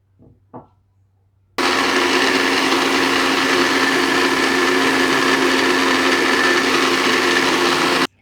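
A couple of light knocks come first, then a blender starts and runs loud and steady for about six seconds, whirring as oil is mixed into a basic salad dressing, before cutting off.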